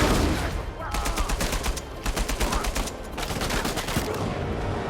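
Automatic gunfire in the PS5 video game Uncharted: Legacy of Thieves, loud rapid bursts of shots in quick rhythmic clusters with brief gaps.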